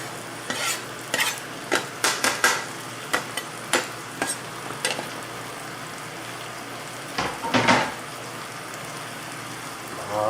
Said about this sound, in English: we're going to let these cook in that oil for a few minutes and get tender